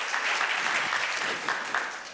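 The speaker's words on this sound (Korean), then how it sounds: "다시 한번 뜨거운 박수로" An audience at a church youth worship service bursts into warm, sustained applause, dense clapping filling the room at an even level with a few sharper claps rising near the end.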